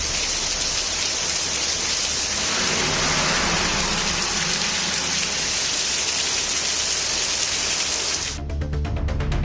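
Moderate rain falls steadily on the road at Attiyampatti junction near Rasipuram, Namakkal district, a dense, even hiss that stays loud and unbroken for most of the time and then shifts abruptly just before the end.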